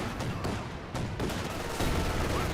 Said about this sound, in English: Mortar half-track firing away.